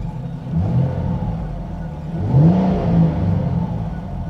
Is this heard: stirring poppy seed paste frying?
no